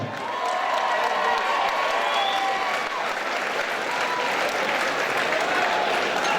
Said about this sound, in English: Ladies and gentlemen, make some noise for these two warriors.